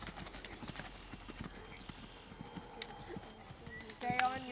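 A horse trotting in a riding lesson during leg-yielding work, giving steady rhythmic hoofbeats across the arena with a louder burst near the end and faint background sounds.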